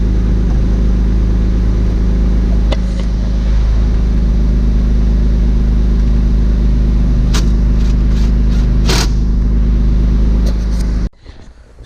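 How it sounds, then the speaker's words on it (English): A loud car engine idles with a steady low drone and hum, joined by a few brief clicks and rattles near the end before the sound drops off sharply. "the car is really loud"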